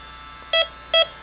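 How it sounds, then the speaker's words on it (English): Two short, loud electronic beeps from a YELLOW JACKET AccuProbe refrigerant leak detector's audible alarm, evenly spaced about half a second apart over a quiet background. "you'll get an audible alarm"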